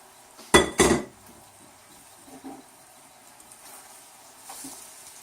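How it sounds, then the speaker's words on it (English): Cooked vegetables tipped back into a pan with prawns, soy sauce and garlic, giving two loud clattering bursts of food and pan contact near the start, then faint scraping and light clinks. "I'm going to take my vegetables and I'm going to add them back to the pan"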